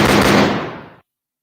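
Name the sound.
gunshot sound effect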